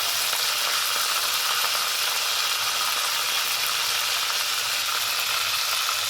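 Bombay duck (lote fish) pakoras frying in hot oil give a dense, steady sizzle, close and even throughout, with no voices.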